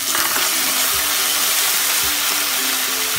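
Green peas tipped into a pan of hot oil with browned chana dal and cashews, giving a steady close hiss and sizzle with faint stirring knocks, no talking.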